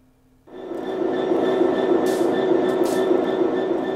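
A train in Train Sim World 3 starts up after a brief quiet moment, a sudden steady rumbling hum with sustained tonal whines, two brief hissing bursts rising above it, loud and close with no talk.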